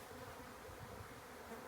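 A swarm of honey bees buzzes in a dense, continuous hum around a hive during a swarm capture outdoors, the drone steady and faint.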